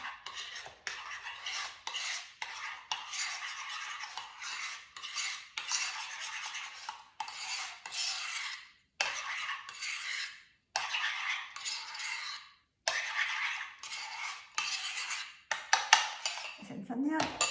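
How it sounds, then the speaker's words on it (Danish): Rice pudding with chopped almonds stirred in a bowl with a spoon: repeated scraping and clinking strokes in bursts with short pauses between, close and fairly quiet. "Så går jeg simpelthen bare det hele rundt."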